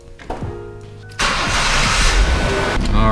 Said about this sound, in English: got the car ready to go, start it up and see how she does.